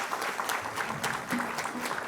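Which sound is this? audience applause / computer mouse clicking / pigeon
audience applause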